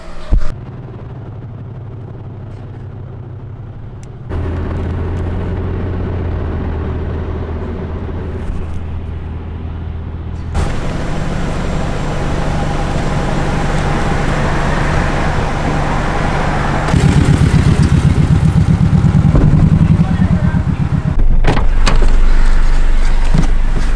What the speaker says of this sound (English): All right, let's hit the road.